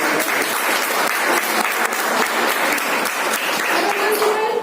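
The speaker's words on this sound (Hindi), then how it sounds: "जोरदार तालियां हो गई" A crowd at a school awards ceremony applauds steadily and loudly, many hands clapping in a dense, sustained burst.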